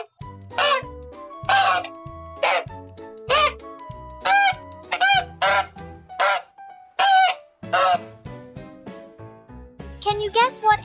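Loud goose honks close by, a series of nasal, brassy calls in uneven bursts with short pauses between them.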